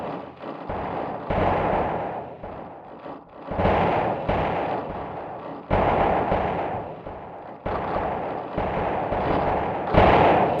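Mortar fire in a Godot-made video game: a rapid run of loud, booming gunfire-like blasts repeating every second or so, layered over continuous rumble with no pauses.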